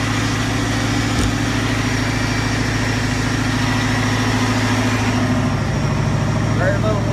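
A 2001 Regal 3260 boat motor idles steadily just after startup, with a close, even low rumble that holds throughout, and a voice faintly near the end.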